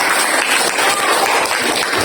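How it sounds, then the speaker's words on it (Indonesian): Students in a classroom applaud a group that has just presented, a loud, dense wash of clapping from many hands that stays steady and unbroken throughout. "kita tepuk tangan dulu untuk kelompok 1 ya"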